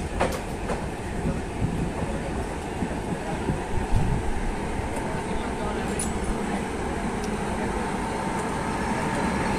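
An Indian Railways WAG-9HC electric locomotive hauls a train past with a steady, loud rumble and rolling wheel noise that runs throughout, with faint clicks along the rails and no talk.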